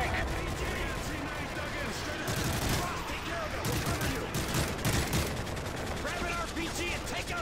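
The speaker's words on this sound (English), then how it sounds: "American team, we have Russian armor firing on the bridge." Dense gunfire and heavy weapon blasts from Russian armor firing on a bridge in Modern Warfare 3, continuous bursts and booms throughout with voices talking over the battle.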